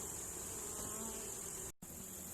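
Honey bees buzz densely around a hive set on asphalt blocks, a continuous, close, even drone of many wings with no voices.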